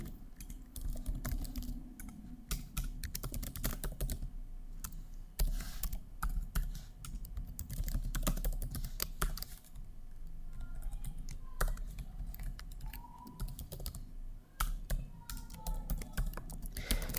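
Steady, dense clicking of keys on a computer keyboard as code is typed, a continuous close patter of keystrokes with no talking.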